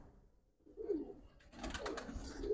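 Old-breed Giribaz pigeons coo close by in a quiet setting, a soft low call followed by a fuller burst of cooing and rustling.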